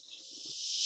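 A voice imitates a hissing "shh" sound, a single steady breathy hiss that swells slightly louder over about a second, close and alone.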